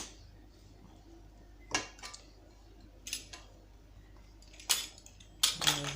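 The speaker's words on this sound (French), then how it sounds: "Je vais essayer de la couper maintenant." A knife cuts through freshly baked Italian focaccia, giving scattered crisp crackles and scrapes against a pan or board, with a few sharp clinks near the end and no talk.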